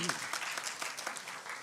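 An audience at an international Punjabi conference claps for a guest, a dense burst of applause heard close and steady for under two seconds.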